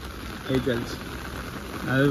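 Steady rain falls in a continuous broadband hiss, with a voice talking over it in short bursts.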